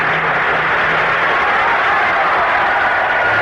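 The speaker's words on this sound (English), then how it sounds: "applause is their life's blood" Applause sound effect from a radio drama, a loud, steady wash of many hands clapping that carries on evenly from start to finish with no voices.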